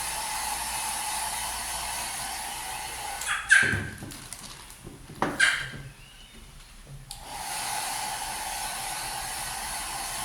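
A hair dryer blows steadily on Cassie's freshly washed hair, a constant close whoosh broken by a few brief bumps and pauses midway before the airflow resumes evenly.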